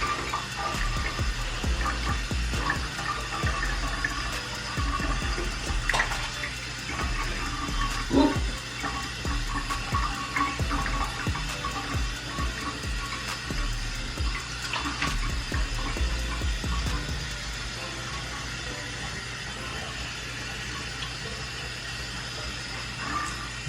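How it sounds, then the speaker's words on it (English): Water is applied to hair on top of the head while a lace-front wig is being installed. A continuous soft hiss of spraying or trickling water runs throughout at moderate level, with small splashes and handling noises. "So I'm adding majority of the water to like the top, not to the bottom"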